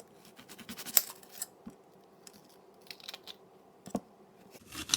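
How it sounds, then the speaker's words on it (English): Knife cutting a peeled onion on a board during vegetable prep, a scattered series of short crisp chops and taps with quiet gaps between them, close and fairly light. "So cut that onion about 2 to 3 layers deep."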